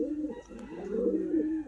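Racing pigeons coo in a low, throaty run of repeated warbling calls that swell and fade, close by and steady with no talk over them.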